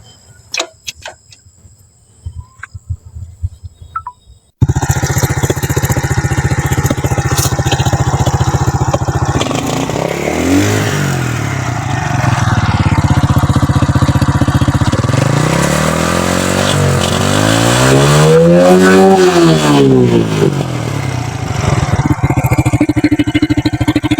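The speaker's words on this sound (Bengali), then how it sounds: "চল্লিশ হাজার কিলো চলার বাইকের ইঞ্জিনের সাউন্ডটা দেখেন" A Runner Deluxe AD80s motorcycle engine with about 40,000 km on it starts after a few quiet clicks, then idles loudly and close, rising through several throttle revs and falling back to a steady idle.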